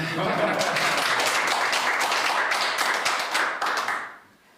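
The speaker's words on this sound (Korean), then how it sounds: "박수 한번 크게" An audience at a Busan meeting with a party leader breaks into dense clapping that holds steady for about four seconds and then trails off to near silence.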